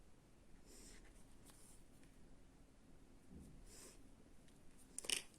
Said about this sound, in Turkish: ve bu ipimde kesiyorum buradan